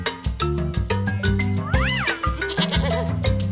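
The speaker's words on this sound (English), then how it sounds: "A goat." A goat bleats briefly in a wavering cry midway through, layered over a loud, bouncy children's music track with a steady beat.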